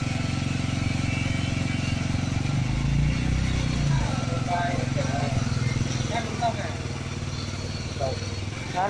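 Motorcycle engine idling steadily nearby while it runs a simple electricity generator, a continuous low rumble with people talking over it.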